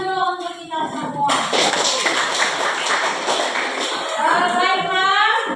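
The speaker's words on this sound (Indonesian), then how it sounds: "Beri tepuk tangan dulu untuk kita semua." Students in an Indonesian eighth-grade science classroom clap together in a short burst that starts abruptly after a teacher speaks and fades as her voice returns, close and lively.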